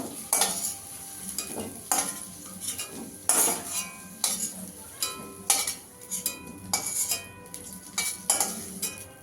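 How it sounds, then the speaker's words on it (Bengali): Potatoes fried until reddish-brown are stirred and scooped from a pan for aloo paneer curry, with repeated scraping clinks of a utensil against metal over a soft sizzle, no talking. "একটু লাল লাল করে ভেজে নিয়েছি, এবার তুলে নেব।"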